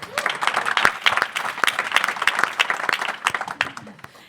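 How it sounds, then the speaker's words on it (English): An audience at an impact-investing foundation event applauds a speaker being introduced, many sharp distinct hand claps in a lively ragged burst that tapers off near the end. "Let's give a round of applause for Tracy."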